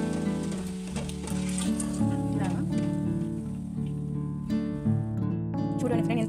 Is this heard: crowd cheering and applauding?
no